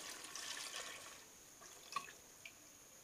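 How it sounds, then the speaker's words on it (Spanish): Water poured over cassava pieces in a cooking pot on a stove, a quiet trickling pour with a few faint drips near the end. "Cubramos con agua."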